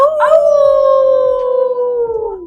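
A long, loud wolf howl for a Ukrainian folk-tale audio story, one sustained tone rising briefly then sliding slowly downward, close and alone, sounding like a voice imitating a wolf.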